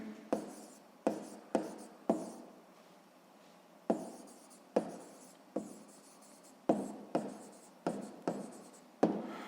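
Pen writing by hand on paper while working a sixth-grade math word problem about a cyclist's speed: a string of about a dozen crisp, close strokes and taps in irregular bursts, with no talking.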